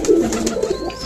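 A pet pigeon gives a soft, throaty coo up close, a brief low warbling call repeated in quick pulses with faint background noise.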